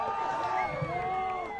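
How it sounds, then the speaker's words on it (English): A roaring crowd at a Utah Wild versus Oregon Onyx ultimate frisbee game cheers loudly, with whoops and whistling tones rising over a dense background of babble. "The crowd is going wild."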